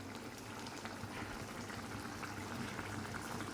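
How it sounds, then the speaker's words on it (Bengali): Fish curry gravy bubbling steadily in a pan on the stove, a continuous soft, even boil with faint popping and no voices. "এবার আমি আরও কিছুক্ষণ এটা ভালো করে ফুটিয়ে নেব।"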